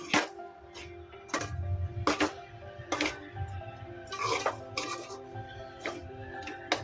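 Fresh coconut mixture for coconut vadi being stirred in a pan over low heat, a spatula scraping and tapping the pan in repeated sharp knocks about every second.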